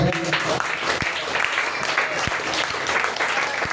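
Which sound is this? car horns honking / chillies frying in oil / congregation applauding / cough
congregation applauding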